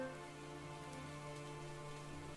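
Heavy rain from a stormy downpour hisses steadily and fairly faintly, blended with a sustained tonal drone, continuous throughout with no speech.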